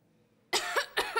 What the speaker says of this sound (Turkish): Öksürerek derse konsantremi bozuyor.